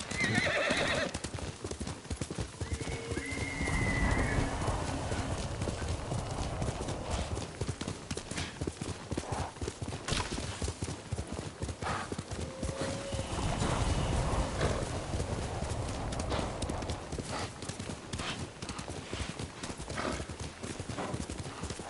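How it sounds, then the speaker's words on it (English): Hooves pound in a fast, steady gallop while a horse whinnies a few times, all over a dense, continuous rumble of motion, in the video game Ghost of Tsushima. "Horse!"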